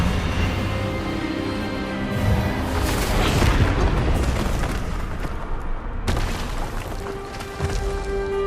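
Expelliarmus spell cast in the Hogwarts Legacy video game: a loud, sustained magical blast with booming, rumbling bursts over a dense background, one sharp crack partway through.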